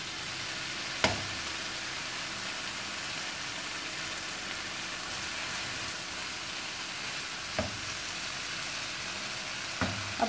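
Arvi frying in ghee and oil over a high flame, a steady close sizzle with a few brief clicks or stirs of a utensil against the pan.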